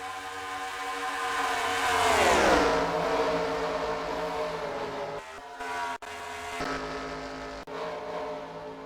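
A race car engine roars loudly during a race, then winds down with a falling pitch as the motor blows, sputtering and cutting out in short dropouts before droning on.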